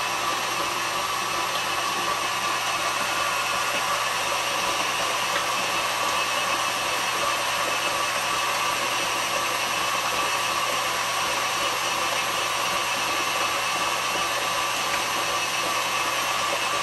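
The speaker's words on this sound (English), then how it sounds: "I'm ready to finish mixing, maybe about 3 minutes." An electric mixer whirs steadily and loudly for the whole stretch, beating cream cheese pound cake batter in a bowl with an even, unbroken motor drone and no talking.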